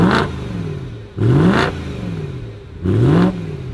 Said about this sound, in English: we're gonna drop it, rev it for you guys